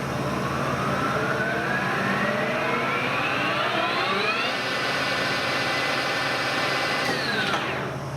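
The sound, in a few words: machine headstock running at 1500 rpm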